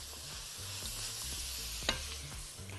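Mushrooms and vegetables sautéing in a pan over a high gas flame give a steady, moderate sizzle, with a brief sharp clink of stirring near the end.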